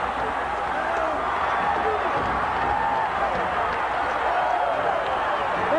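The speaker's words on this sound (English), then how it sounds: "Listen and look at this crowd." Large stadium crowd at a 1982 Penn State college football game roars continuously, a dense, steady wash of cheering with no breaks, with a commentator talking over it.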